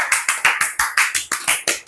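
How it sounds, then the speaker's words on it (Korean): A single person clapping in a middle-school history class, about a dozen crisp, close, evenly spaced claps in quick succession. "박수 한번 줍시다."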